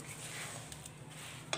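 A hot sesame mixture for til laddu being stirred in a pan: a soft scraping swirl with a faint sizzle, ending in a brief clink of utensil against metal.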